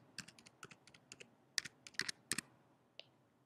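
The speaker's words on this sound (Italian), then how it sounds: "Digitiamo la password" Someone types a password on a computer keyboard, a quick irregular run of crisp key clicks close by, a couple sharper presses near the end, with no talk.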